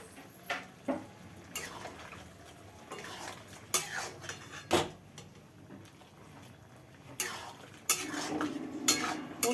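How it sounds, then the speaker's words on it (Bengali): Cooked poppy seed paste (posto) being poured into a pot and stirred, with several sharp metal utensil scrapes and clinks against cookware over a soft, low sizzling background, close and moderately quiet. "পোস্তটা সেদ্ধ হয়ে গেল, চলো পোস্তটা ঢেলে দিয়ে আর নামিয়ে নেবো।"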